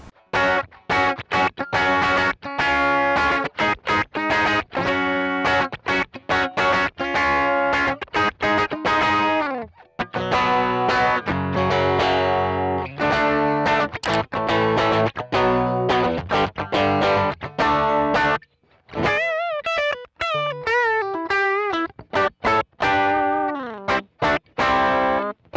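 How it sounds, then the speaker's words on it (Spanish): An electric guitar through the crunch preamp of a Boss ME-80 multi-effects unit plays a lively run of overdriven chords and single notes with some pauses, loud and up front, ending on a wavering bent phrase. "este es el crunch. El crunch es como una combinación de casi todos los amplificadores"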